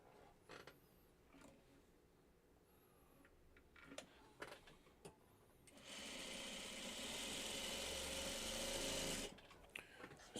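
A sewing machine stitches onto a white fabric strip in one sustained, fairly loud whirring run lasting a few seconds, set between quiet clicks, taps and handling noises at a low level.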